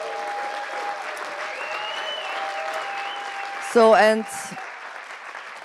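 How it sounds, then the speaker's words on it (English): Audience applause at the Crossing Europe film festival awards ceremony, a steady broad wash of clapping running under a voice throughout, swelling briefly louder near the end. "please give the applause to the great Crossing Europe team"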